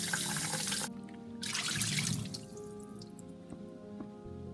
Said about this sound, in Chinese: 沸水后用清水冲洗干净